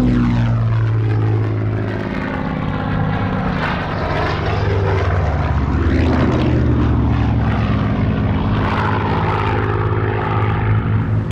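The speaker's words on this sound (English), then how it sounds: "The Hurricane was joined by the Flight Spitfire Mark 5B." A Hurricane and a Spitfire Mark 5B flying together with piston engines and propellers, a loud sustained drone whose pitch rises and falls as the aircraft pass overhead.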